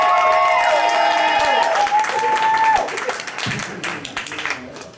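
Comedy club audience at Helium applauding a stand-up comic, with steady clapping and some cheering over tonal music, fading out as the clapping thins.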